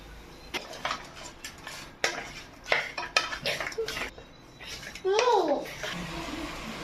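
Country chicken kuzhambu being sautéed in a pan, with a metal spoon scraping and clanking against the pan in irregular strokes over faint sizzling, while a voice chatters in the background.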